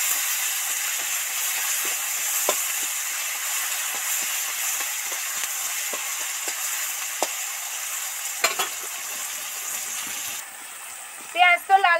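Onions frying with a sprinkle of salt in a pan, a steady close sizzle and hiss running throughout with small pops and crackles, ending with a brief clatter of stirring.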